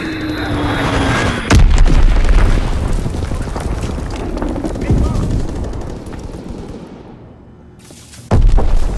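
Heavy bomb blasts from a bombing run in the World War II video game Call of Duty: WWII, with deep booming impacts landing in bursts, a long rumbling roar between them and another loud blast near the end.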